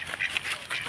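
A duckling in a pond gives a few quick, faint nasal quacks in short bursts, close by with nobody talking.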